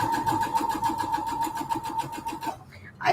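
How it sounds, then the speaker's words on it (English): A sewing machine stitches fabric for a storage cube, its needle chattering in a fast, even mechanical rhythm with a steady motor hum for about two and a half seconds before stopping abruptly, heard close and loud. "You can see technically what I'm sewing."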